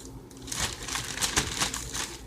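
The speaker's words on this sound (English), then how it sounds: "We're going to put our 3 cut strawberries into the plastic bag." A plastic bag crinkles in quick, crisp rustles as cut strawberries are dropped into it, close and fairly loud, with no talking.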